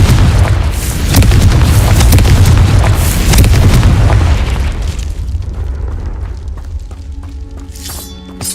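A Confringo spell explosion in Hogwarts Legacy, a loud close blast with a heavy boom and shattering debris that rumbles for several seconds, then fades into a ringing, tonal magical tail.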